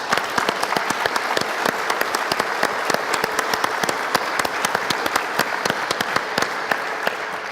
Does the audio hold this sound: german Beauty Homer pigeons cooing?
no